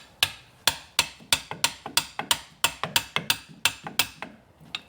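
A steady series of sharp metallic taps, about fifteen evenly spaced strikes, as a front left axle seal on a 2002-2007 Jeep Liberty is tapped in with an adapter; close and fairly loud with no talking.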